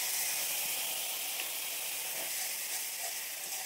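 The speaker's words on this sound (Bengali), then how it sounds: "সামান্য একটু জল দিয়ে দিচ্ছি।" A faint, steady hiss of ground spices sizzling in a pan with a splash of water added, soft and even without sharp pops.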